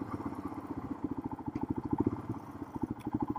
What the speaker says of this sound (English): That nice thumpy engine sound